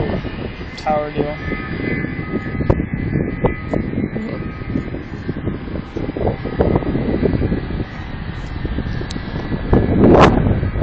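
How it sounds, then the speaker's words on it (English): Jet airliner at Dallas Fort Worth airport passing with a steady broadband engine roar and wind rumble, swelling slightly near the end, while people talk over it. "I wonder where that plane's going."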